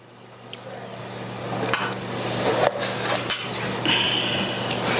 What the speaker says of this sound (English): You can cut it up with a little knife there